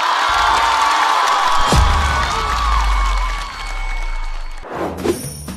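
A crowd at a stand-up comedy show cheers and applauds in a loud swell with a low rumble beneath, which cuts off abruptly near the end before a brief clatter.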